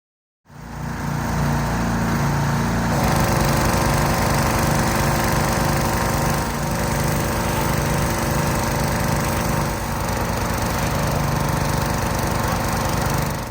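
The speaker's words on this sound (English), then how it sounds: "I think the pressure washer will run smoother and better than it did last year" A small-engine pressure washer starts up and runs at a loud, steady drone close by, holding an even pitch for about thirteen seconds with no talking.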